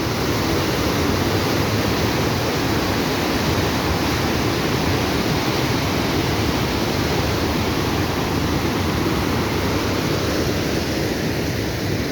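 The clear-water Astak Nala river rushes in a loud, steady, unbroken roar throughout, with no voices.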